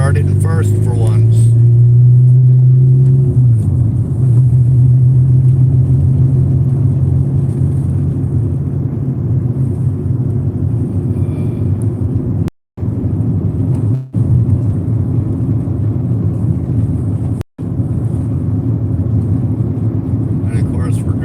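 A car engine running while driving through town streets, started in first gear: a steady low rumble and drone throughout, with a voice talking over it.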